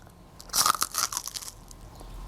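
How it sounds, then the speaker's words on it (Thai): Crispy batter-fried banana coated in Amarin Tip frying flour is bitten into, giving a burst of loud, close crunches in quick succession before fading to quiet chewing, with no talking. "กรอบสนั่น อร่อยสะใจทุกคำไปเลยค่ะ"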